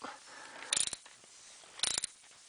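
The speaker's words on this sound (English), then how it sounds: "Okay, now I got this dropped back in the hole. I'm tightening it up." A coolant temperature sensor is being tightened into a 1993 Dodge Dakota 3.9L engine, with two short bursts of quick metallic ratchet clicks separated by a quiet pause.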